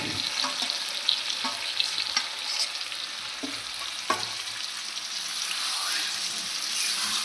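Marinated lote fish frying with fried onions in a kadai makes a loud, continuous sizzle up close, with scattered stirring scrapes and clicks throughout.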